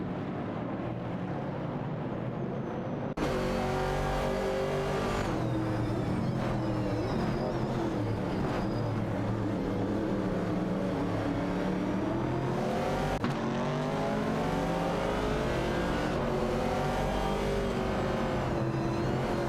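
A 1970 Pontiac Firebird and a Ford Mustang Boss racing in a video game, their engines droning loud and continuous with rising revs and pitch sweeps between gear changes, a sharp shift midway, and no voices.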